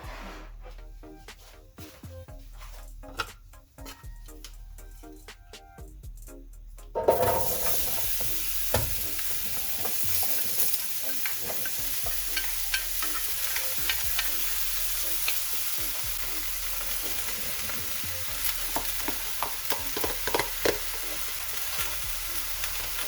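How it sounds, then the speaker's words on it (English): Vegetables hit hot oil for hibachi, a quiet start with light clatter giving way to a sudden loud, steady sizzle and hiss that continues with stirring crackles, no voices. "Now I'm gonna add my vegetables in."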